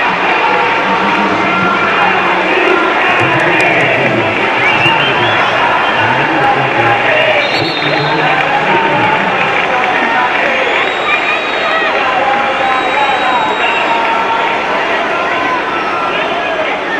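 Continuous roar of a crowd in the stands at a women's football match between Roma and Como, a dense, steady wash of many voices with no break.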